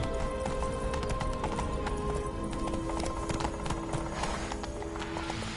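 Horse hooves clip-clop in a steady galloping rhythm inside The Witcher 3, close and continuous over a bed of game music, with a brief whinny and no talk.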